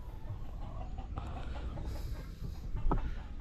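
Soft clucking of a sick chicken against a steady low background hum, with a slightly louder cluck near the end.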